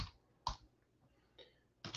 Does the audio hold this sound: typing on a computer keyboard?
yes